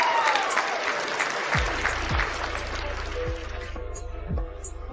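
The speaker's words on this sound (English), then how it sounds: "Give her a round of applause, please," Applause from an online gathering, a dense patter of clapping that fills the opening and fades toward the end, with low hum and faint voices underneath.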